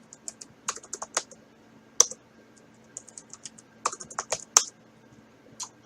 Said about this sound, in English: So type PASSWD and press enter, and then you'll type your new password.